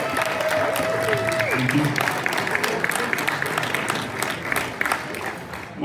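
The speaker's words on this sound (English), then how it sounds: "Round of applause." Audience applause for a special guest at a football club gathering, steady clapping filling the room with a brief spoken thanks over it.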